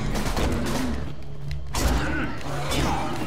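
Weapon fire in the shooter game Borderlands 2, a dense rattle of shots and impacts running continuously with a brief lull midway, loud and close under game noise.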